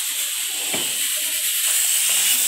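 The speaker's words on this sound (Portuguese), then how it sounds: "Esse barulho é panela de pressão" A loud, steady hiss of steam escaping a pressure cooker cooking beans fills the scene, with faint clinks and kitchen sounds beneath.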